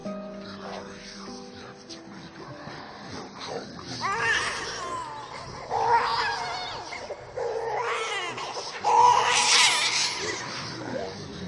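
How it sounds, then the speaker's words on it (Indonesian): Baby crying as a horror story sound effect, several rising wailing cries in bursts that grow louder toward the end, with fainter murmuring sounds at the start. "kali ini ditambah dengan suara tangisan bayi."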